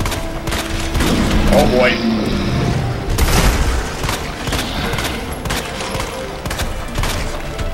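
Gunfire from a 9mm handgun in the video game Resident Evil 2 Remake, several sharp shots and booms amid loud game effects and ambience, with someone talking over the action.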